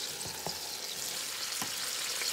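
Chopped onion and crushed garlic fry in a pot with a steady, close hiss of sizzling oil and a few soft crackles and stirring bumps, with no talking.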